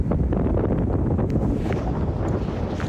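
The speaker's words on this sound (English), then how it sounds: "you can hear the winds right where you are" Strong wind near Southern California wildfires roars steadily and loudly, buffeting the microphone with a continuous dense rush that never lets up.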